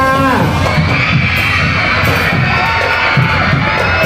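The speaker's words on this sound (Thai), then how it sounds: "ขอเสียงกรี๊ดให้กับคณะสีการุณรัด้วยค่ะ" A dense crowd at a school sports day parade screams and cheers loudly and continuously, with children's shouts and voices mixed through the steady roar.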